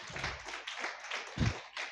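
A congregation at a church gathering clapping hands, a short run of brisk, fairly faint claps with one louder clap near the end.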